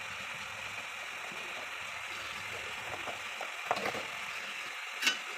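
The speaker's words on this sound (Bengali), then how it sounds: "এখন আমি ভালো করে তরকারিটা কষাই নেব।" A vegetable curry of stem greens with hilsa fish, mustard, onion, green chili and garlic paste sizzles steadily in a pan, with a few soft stirring scrapes and one brief clatter near the end, close and without talk.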